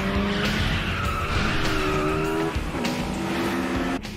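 A Toyota AE86 and a Honda S2000 racing on a mountain road with tires screeching, their engines droning loud and near under long sliding squeals that shift pitch as the cars drift.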